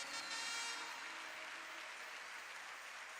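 Applause from a church congregation during a sermon, a dense, steady wash of clapping that starts a little stronger and holds at an even, moderate level with no voices over it.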